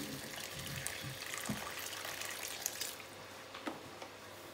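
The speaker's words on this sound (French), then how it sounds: "Maintenant, je vais rajouter l'eau." Water poured into a pot of peanut sauce for mafé simmering over low heat, a steady soft splashing and trickling that runs close and unbroken for several seconds before easing off.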